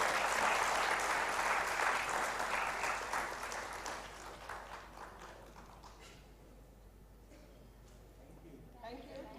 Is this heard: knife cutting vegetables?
no